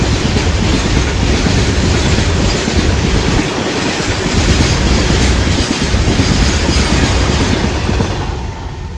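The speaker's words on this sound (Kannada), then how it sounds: "ಈಗ ಹೋಗಿರೋದು ಹೊಸ ಡೀಸೆಲ್ ಇಂಜಿನ್ ಟ್ರೈನ್" A new diesel-engine train passes close by, its loud, steady rumble and rhythmic wheel clatter filling the whole stretch without a break, with no voices.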